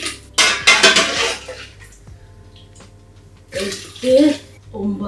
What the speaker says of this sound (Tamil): இப்போ 10 கப் தண்ணி விட்டால் போதும்.